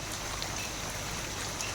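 Light rain falls on the road in a soft, steady hiss, an even patter with no voices.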